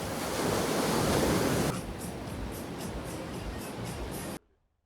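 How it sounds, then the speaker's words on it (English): Surf washing onto Praia do Tonel, a cliff-backed beach in the Algarve, Portugal, roars as a steady broadband wash, loudest at first and then easing to a softer continuous rush before cutting off abruptly. "You can hear the sound of the waves and the seagulls in the background"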